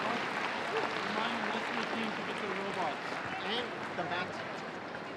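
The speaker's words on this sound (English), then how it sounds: "everybody give yourselves a round of applause for the hard work that you've put in today" A crowd at a robotics championship applauds in a steady wash of clapping, with a voice speaking over it throughout.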